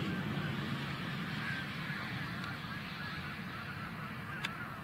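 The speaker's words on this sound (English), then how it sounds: "And lots of Canada geese." Canada geese honking among a mixed flock of cranes and ducks in open country, a dense, distant chorus of calls over steady outdoor background noise.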